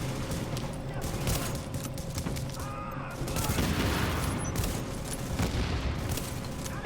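Dense video-game gunfire from The Division rattles on continuously, with overlapping shots and distant booms forming a busy, steady battle din throughout.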